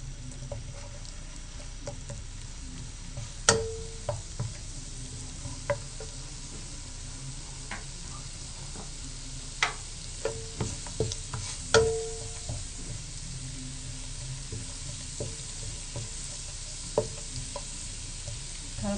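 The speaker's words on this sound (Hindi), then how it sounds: "पेस्ट डाल दें लहसुन गार्लिक का। इसको हल्का सा फ्राई करें।" Garlic paste frying lightly in a pan gives a soft, steady sizzle throughout, broken by occasional sharp clinks and scrapes of stirring utensils against the pan, with no voices.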